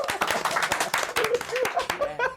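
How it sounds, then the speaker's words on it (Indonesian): Audience clapping hands at a large gathering of thousands, quick irregular claps close by with a voice briefly audible near the end. "tepuk terdengar dari tepuk tangannya."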